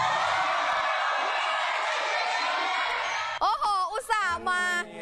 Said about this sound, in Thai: ท่ามกลางเสียงโห่ร้องของกองเชียร์ค่ะ